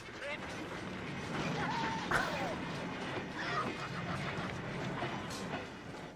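A train rumbles past in a cartoon after someone is thrown off a railway bridge in front of it, a steady loud rush with a brief crash-like burst midway, while people talk over it.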